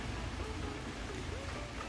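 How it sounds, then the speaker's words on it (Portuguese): Steady rain falls in São Paulo as a dense, even hiss of drops with no pauses, fairly distant and uniform throughout, and no talk over it. "hoje aqui em São Paulo tá fazendo 24 horas que tá chovendo aqui"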